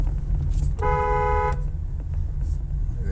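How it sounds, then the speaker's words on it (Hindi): A single steady car horn blast lasting under a second on a Karachi road, sounding over a constant low rumble of traffic and engine noise. "मैं हॉर्न दिया तो बेचारा डर गया।"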